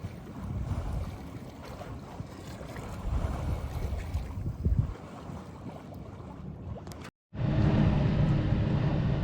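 A sailboat moving across open water in steady wind, with continuous broadband wind and water rush loud and close to the microphone, a brief dropout near the end, then the rushing resumes.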